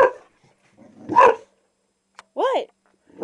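A dog gives a short, sharp bark or yip indoors, close by. A single burst follows a quieter stretch, with a person's voice heard just before it.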